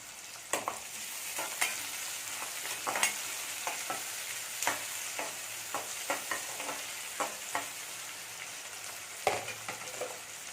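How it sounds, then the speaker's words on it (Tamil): Onions salted and sautéing in a pan give a soft, steady sizzle beneath repeated sharp clicks and scrapes of a spoon stirring, close but fairly quiet, with no voices. "வெங்காயம் நல்லா வதங்கிருச்சு"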